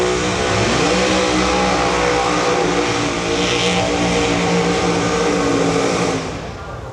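A Pro Mod drag race car launches down the track during qualifying at the World Series of Pro Mod, a loud, sustained, harsh engine roar with a steady pitch that fades slightly near the end.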